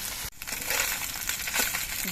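Small fresh Ganges mourala fish fry in hot oil in a pan, giving a steady bright sizzle with scattered crackles and a brief scraping clatter near the start.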